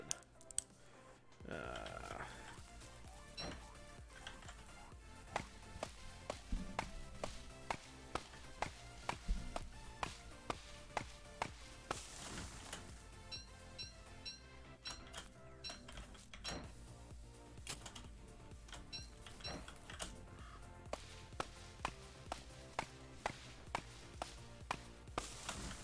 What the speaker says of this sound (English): Feel bad chopping down not completed trees, but whatever.